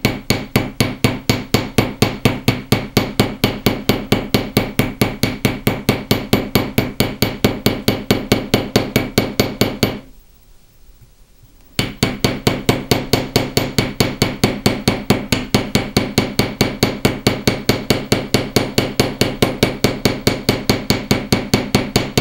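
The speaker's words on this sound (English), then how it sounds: "I'm now ready to flip my hammer over and using the ball end, put in some texture." Ball end of a hammer striking a fine silver clasp to texture it, a fast, steady run of sharp metallic taps close up, pausing briefly near the middle before resuming at the same pace.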